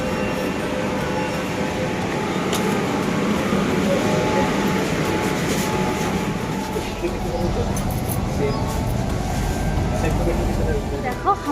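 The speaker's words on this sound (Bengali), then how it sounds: "ট্রেন ধরে আমরা চলে যাচ্ছি কিন্তু ট্রেন চলে এসছে" A metro train pulls into Sealdah metro station in Kolkata, its steady loud rumble and rolling rail noise filling the whole stretch, with some faint voices mixed into the platform din.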